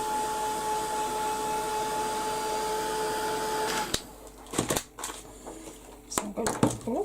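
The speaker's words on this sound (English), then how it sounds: "I'm just going to give this a quick blast with the heat gun" A heat gun blows hot air on a craft piece in a steady whirring hiss with a faint tonal whine for about four seconds, then cuts off, leaving quiet handling clicks and rustles.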